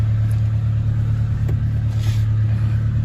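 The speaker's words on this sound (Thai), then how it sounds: "เครื่องติดง่ายนะครับผม" A 1996 Honda Civic EK with a VTEC engine and factory-original automatic gearbox idles steadily up close, a loud continuous low hum with a faint tick midway and no voices.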